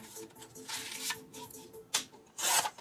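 A paper trimmer slices through a vintage card, giving soft, close rasping slides with a couple of sharper scraping bursts near the end. The sound is fairly quiet, with no talking.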